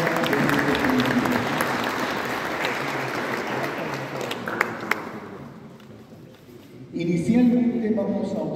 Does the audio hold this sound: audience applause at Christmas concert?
yes